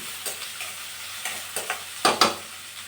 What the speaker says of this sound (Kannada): ಟೊಮೊಟೊನ ಹಾಕಿ ನೀಟಾಗಿ ಫ್ರೈ ಮಾಡ್ಕೊಳ್ಳಿ